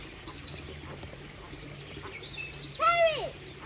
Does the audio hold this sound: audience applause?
no